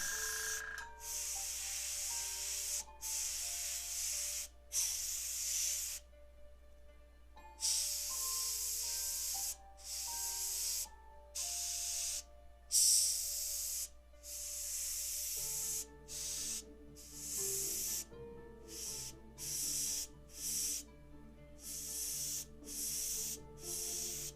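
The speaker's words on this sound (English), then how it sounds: "it looks like the airbrush needs to be cleaned" Airbrush being flushed and cleaned, sprayed in repeated short bursts of hissing air, steady and close, with brief pauses between blasts and no talking.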